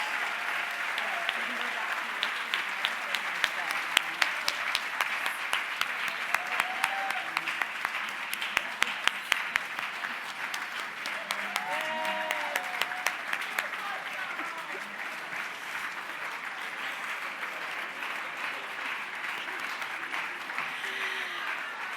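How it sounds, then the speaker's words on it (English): Applause from a gala audience at a youth charity event, a sustained round of dense clapping that carries on steadily throughout with some speech faintly mixed in. "can we give them one more round of applause as they return to their seats?"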